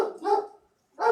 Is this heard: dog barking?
yes